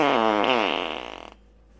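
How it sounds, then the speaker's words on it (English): A long, loud, tonal fart on a cold morning, buzzing with a rising then sputtering pitch before trailing off into quiet, close up and alone. "That's a cold morning fart"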